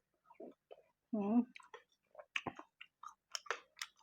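Someone eats Thai papaya salad (tam bak hung) up close, with soft, irregular chewing and wet crunching bites, plus a few quiet clicks and mouth sounds over about four seconds.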